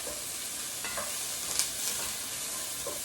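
Sweet potato hash frying on medium-high heat in a pan, with a loud, steady sizzle and a few brief scrapes as it is stirred.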